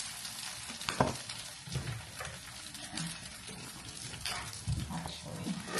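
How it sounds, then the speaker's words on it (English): Egg frying in a hot pan, a continuous sizzle broken by a few louder scraping and flipping clanks, close and fairly quiet. "So I'm just gonna put a fried egg on top."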